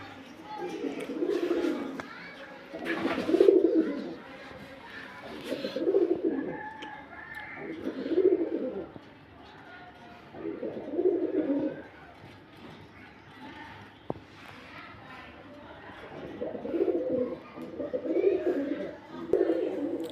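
Pet pigeons coo in a steady series of soft, low throaty phrases that repeat every couple of seconds. The birds are close, with faint rustling and a few small knocks between the calls.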